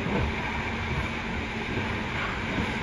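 A passenger train running at 114 km/h near Kutoarjo meets another train, giving a steady, close rumble of wheels and carriages throughout, with no talk.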